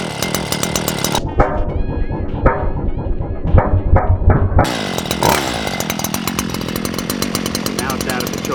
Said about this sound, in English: As soon as you hit that throttle,